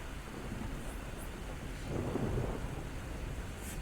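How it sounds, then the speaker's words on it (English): Modded weather in the Skyrim video game: steady rain hisses with a low thunder rumble swelling midway, no voices. "And here we go with the rain."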